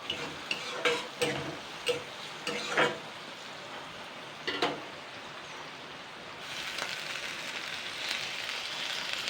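Drumstick leaves and potatoes fry in a pan, with a soft continuous sizzle broken by scraping stirs, louder clattering strokes early on and steady frying later.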